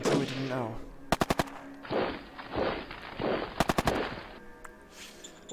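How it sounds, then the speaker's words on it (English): Bursts of rapid automatic gunfire from the strategy war game Shadow Empire, two sharp volleys of several shots each, loud and close, with rumbling game sounds between them. "I'm under heavy fire."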